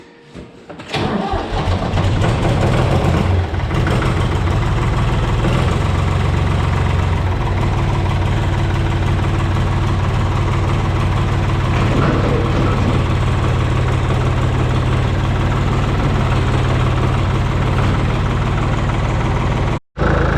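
An old backhoe's engine rumbles steadily at close range after a brief start, holding a loud, even idle for the whole stretch before cutting off abruptly near the end.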